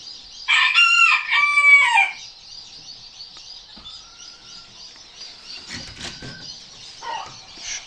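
A rooster crows loudly and close in a backyard coop with Wyandotte and other breed chickens, its harmonic call ringing for about two seconds before quieter clucks and rustling from hens settled on eggs.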